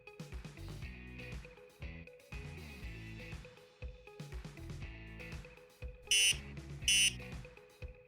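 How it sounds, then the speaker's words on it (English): An electronic cabinet lock gives two short, high, piercing beeps about a second apart, rising above a steady background hum and tonal noise. "1 beep means the beeper is off, while 2 indicates that the beeper is on."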